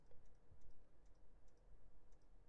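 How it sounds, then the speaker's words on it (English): Soft, quiet keyboard clicks inside a Hyundai Ioniq 6, a handful of light taps spaced irregularly over low cabin hum. "I was wanting you guys to hear the keyboard clicks"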